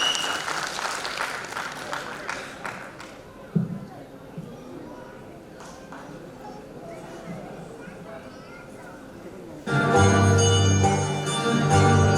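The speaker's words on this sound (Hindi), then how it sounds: "तो एक बार जोरदार तालियां।" Audience applause and cheering at a corporate day diamond jubilee celebration, loud at first then fading, with announcer talk in between and music swelling in at the end.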